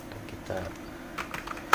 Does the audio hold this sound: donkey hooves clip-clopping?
no